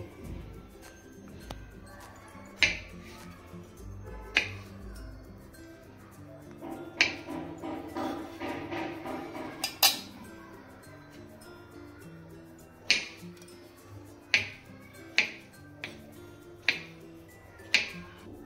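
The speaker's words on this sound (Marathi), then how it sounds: "आता आपण पहिल्यांदा मशरूम कापून घेऊ." Sharp knife taps on a cutting board while chopping mushrooms, irregular at first, then a quicker series of crisp chops near the end, with a faint voice in between.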